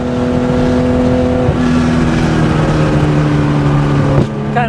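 A 1972 Porsche 911 T with a 2.8-litre fuel-injected engine drives hard at close range, its loud, steady engine drone holding pitch and then shifting near the end as the revs change, with no talk over it.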